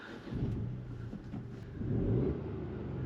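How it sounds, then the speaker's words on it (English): Ford Puma ST hot SUV engine idling and revving inside the car, a steady mid-low rumble that swells into a louder rev near the end, with no talk. "Let's give it a start,"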